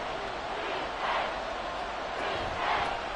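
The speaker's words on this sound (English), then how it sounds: "This crowd turning up the decibel level." A stadium crowd at a Texans vs Dolphins football game roars in a dense, sustained wall of noise, with swelling surges of cheering rising and falling.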